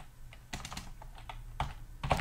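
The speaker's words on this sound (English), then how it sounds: "this keyboard here is really horrible and sticky" Typing on a sticky computer keyboard, a run of irregular clicky keystrokes at close range, quiet and steady with a few heavier presses near the end.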